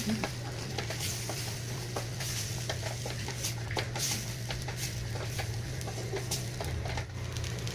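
Cooked green gram is stirred into sautéed onions in a pan, a soft continuous scraping and patter of the spoon moving through the mix with light irregular clicks over a low steady stove hum.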